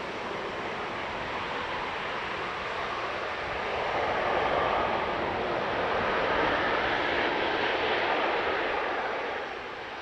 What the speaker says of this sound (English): Very heavy landing for that Ryanair.